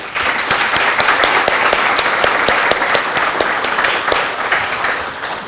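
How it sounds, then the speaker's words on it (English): Applause from the audience at a corrections officer academy graduation ceremony, loud sustained clapping with many distinct sharp claps, steady throughout. "Please give Lorena and the entire Staff Development Unit a round of applause"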